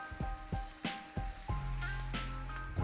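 Mushrooms sizzling in butter with fresh thyme, a steady close frying hiss broken by several sharp clatters of stirring or scraping in the pan, with no talking.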